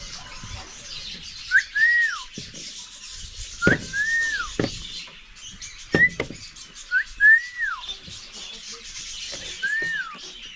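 A pet bird whistles and chirps in about five short, clear, rising-and-falling phrases spaced a couple of seconds apart, with light rubbing and clattering noises between them and no talking.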